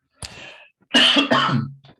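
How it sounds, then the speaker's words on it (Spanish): Several close, loud coughs in two bursts, a short one followed by a longer rough fit that trails off into throat sounds, with no talking. "me llegó un ataque de tos"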